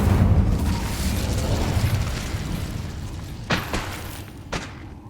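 The Incendio fire spell is cast in the video game Hogwarts Legacy: a deep booming burst fades out, then two short whooshing flares follow about a second apart.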